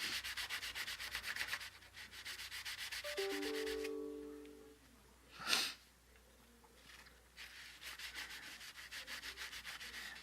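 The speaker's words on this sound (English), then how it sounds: "using this fine grit sanding block just to smooth out the fret" A fine-grit sanding block rubs back and forth over a guitar fret with quick, rhythmic, raspy strokes. The strokes pause briefly in the middle, where a short tonal squeak and a sniff-like burst occur, then the sanding resumes, close and fairly quiet.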